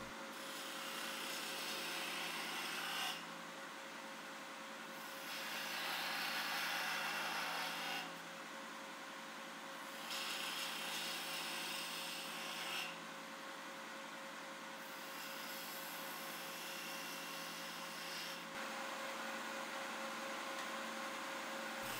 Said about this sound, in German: Das Einstechen mit dem Meißel wird nun mit weiteren nebeneinander liegenden V-Fugen geübt.